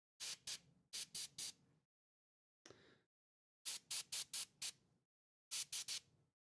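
Payne's Gray paint sprayed in short airy pulses, grouped in quick bursts of three or four with silent gaps between them and one softer hiss in the middle, close and without any talking.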